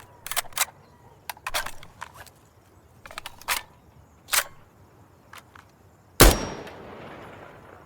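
A weapon is reloaded in the shooter game Insurgency Sandstorm: crisp metallic clicks and clacks in quick clusters, followed by one loud sharp blast with a ringing tail.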